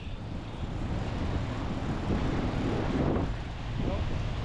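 Steady wind buffets the microphone during shore-based shark fishing, a continuous low rumble of gusts that swells slightly midway, with no voices in the moment.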